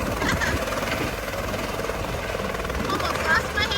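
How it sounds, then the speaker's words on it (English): A tour helicopter at Grand Canyon West drones steadily nearby, its rotor and engine noise a continuous rumbling wash mixed with wind and people talking. "they have tours running back to back with multiple helicopters"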